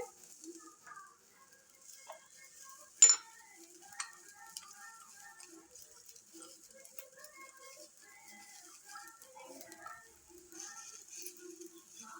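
Onions sautéing in a pan for bisibelabath give a faint, steady sizzle, broken by a few sharp clicks of stirring and small clinks near the start.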